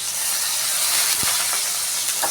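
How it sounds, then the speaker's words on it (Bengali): Bitter gourd drops into hot oil in a wok tempered with nigella seeds and dried chillies, giving a loud, steady close hiss of frying with a brief thump partway through, no voices. "কড়াইতে তেল দিয়ে দিয়েছি, কালো জিরে শুকনো লঙ্কা ফোড়নে দিয়েছি, দিয়ে আগে করলাটা ছেড়ে দেবো।"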